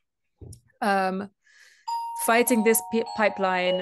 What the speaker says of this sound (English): sorry, that's my doorbell. I don't know if you heard that.